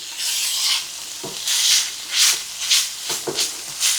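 Ground beef sizzles in a pan as it cooks, with bursts of hissing and stirring scrapes that come and go in uneven pulses, close and fairly quiet.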